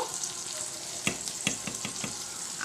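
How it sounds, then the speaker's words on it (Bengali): Eggplant and yardlong beans frying in oil, a soft steady sizzle with a quick run of light spatula taps and scrapes in the middle, close but fairly quiet. "সেখানে বেগুন ভাজা চলছে আর এখানে দু চারটে বরবটিও ভেজে নিচ্ছি"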